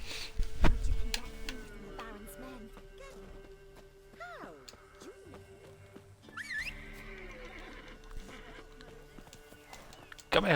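Roach, the horse in The Witcher 3, snorts and whinnies close by while hooves clop and game effects chime, with someone talking over parts of it.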